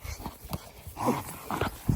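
A dog whines and yips in short bursts, close by at a country house, with a few scuffling sounds between the calls.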